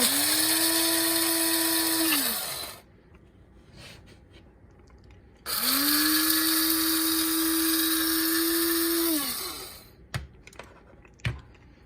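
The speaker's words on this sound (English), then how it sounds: "I had to move the little grinder just because there was no space to plug it in where I would normally plug it in" A small electric grinder whirs loudly in two long bursts as it grinds dehydrated eggs, each winding down to a stop, followed by a few clicks and taps.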